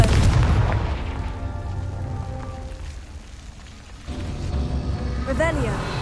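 A Confringo spell from Hogwarts Legacy bursting in a deep boom at the start, then a rumbling decay, with a softer second thump and a rising whistling shimmer near the end.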